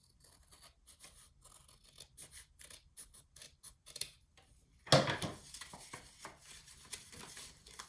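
Scissors trimming paper for a flip book, a series of soft, quick snips close by, followed by louder rustling and handling of the paper.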